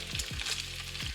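Bacon sizzles in a pan with a bright crackling hiss, broken by a few quick low scraping strokes as the strips are moved about, close and fairly quiet.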